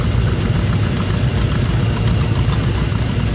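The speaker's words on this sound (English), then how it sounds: "This next tractor is another one of mine. It's a 1936 John Deere Model T." A 1936 John Deere tractor engine idles steadily at a tractor parade, a loud low rumbling chug with an even, thumping rhythm and no voices.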